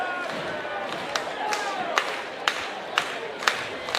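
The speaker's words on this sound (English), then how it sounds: "Crowd starting to get into it." A crowd at a Canadian Baseball League game, Guelph Royals at London Majors, cheers and yells as a steady roar, with sharp claps or shouts punctuating it about every half second.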